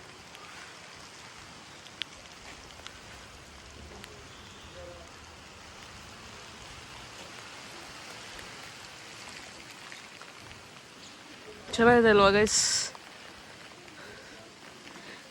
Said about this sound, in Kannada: ಸೊ ಈಗ ಮಳೆ ಬರೋಕ್ಕೆ ಸ್ಟಾರ್ಟ್ ಆಗಿದೆ